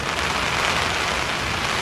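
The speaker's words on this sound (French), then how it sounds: "Cinq minutes plus tard, la pluie fait déjà son retour." Steady rain pours onto a camping tent pitched beside a long-distance hiking trail in the Scottish Highlands, a dense continuous hiss and patter, close and unbroken with no voices.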